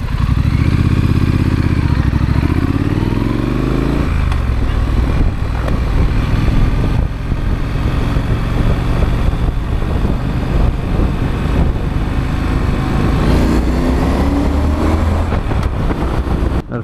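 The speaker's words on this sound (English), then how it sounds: "Now the factory exhaust is a great sounding exhaust." A Triumph Street Scrambler 900 on its factory exhaust rides along, the engine loud and close, rising through revs with gear changes and a deep steady throb, no talk.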